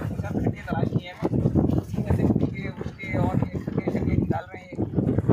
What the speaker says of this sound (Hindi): असल में हवा बहुत तेज है ना